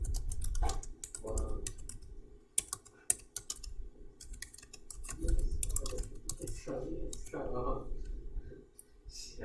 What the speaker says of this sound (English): Let me type that in.